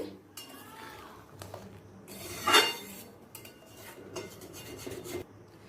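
Cooked chickpea and pea curry is tipped from a pot into another vessel, with metal scraping, clinks of a ladle against the pan and soft rubbing sounds at close range.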